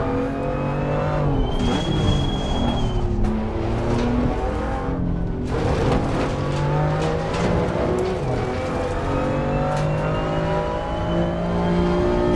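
Race car engine in Assetto Corsa Competizione holding a steady, loud drone after a downshift to second gear, pitch rising and falling gradually through corners, continuous for the whole stretch with no talk.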